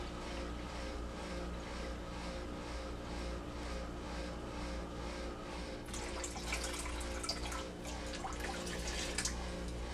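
Water runs from a tap in a steady, soft stream into a cooking pot for a kitchen dish of chicken gizzards, then turns splashier and more bubbly about halfway through, heard close and alone.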